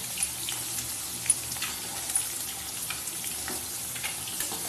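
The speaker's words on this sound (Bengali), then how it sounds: "আর এই উচ্ছেগুলো একটু তেলের মধ্যে নাড়াচাড়া করে দেবো" Bitter gourd pieces fry in hot oil as they are stirred, a soft, steady crackling sizzle with small pops and occasional scraping, fairly quiet and alone.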